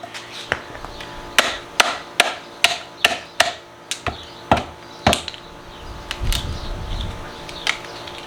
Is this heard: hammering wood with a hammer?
yes